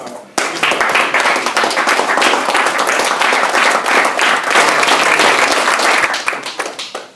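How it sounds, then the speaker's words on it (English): An audience at a hometown award dinner gives a standing round of applause, a loud, dense, sustained clapping that runs steadily for several seconds before tapering off at the end. "give a standing round of applause for the sacrifices the parents have made for Connor"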